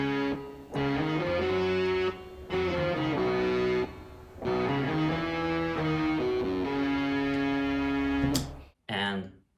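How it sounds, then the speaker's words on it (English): Pianos doubled with the Logic mellotron brass setting for a recreation of a 1976 record, sustained brassy chords in phrases with short gaps, loud and dense, ending in a brief cut and a final stab. "pianos and a mellotron from Logic, the mellotron brass setting."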